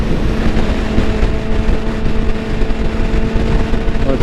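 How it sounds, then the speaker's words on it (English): Strong outdoor wind buffeting the microphone beside a Yamaha R6 motorcycle, a loud, steady rumbling roar with gusty fluctuations and no speech. "And this wind is like blowing me."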